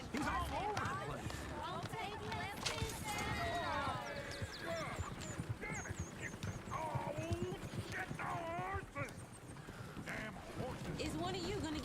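In the video game Red Dead Redemption, a horse-drawn stagecoach rattles past amid busy hoofbeat clip-clops and occasional whinnies, with voices talking over the sound throughout.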